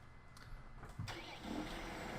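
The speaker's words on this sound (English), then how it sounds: "Oh, that tractor sound though, listen to that." A tractor engine in the Farming Simulator 17 video game, a Case model, rumbling at a low idle and then swelling slightly as it revs, heard alone and fairly quiet.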